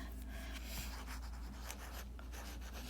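A stylus writing on a tablet screen, soft faint scratchy strokes in short irregular bursts over a steady low hum.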